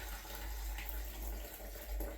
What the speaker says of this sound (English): as you're pouring, you have to make sure that the water is actually pouring down